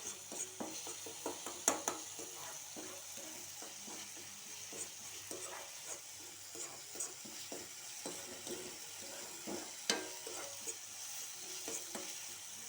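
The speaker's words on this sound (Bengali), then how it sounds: "এবার এটাকে ভালোভাবে কষাই একটু মশলাটা দিয়ে।" Boiled potatoes and mutton stirred with spices in a pan: a steady soft sizzle of frying oil with repeated scraping and clinks of a spoon against the pan, close and fairly quiet, no talking.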